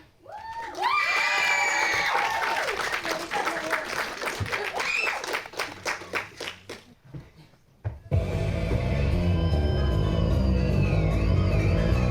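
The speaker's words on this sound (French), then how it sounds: "je vous demande d'accueillir avec un tonnerre d'applaudissements Yor et Anya" At a cosplay parade, a crowd cheers, shouts and whoops with scattered clapping while a voice announces over it, then a burst of loud music and applause takes over for the rest.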